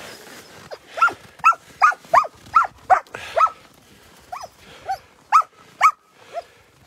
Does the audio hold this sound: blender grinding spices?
no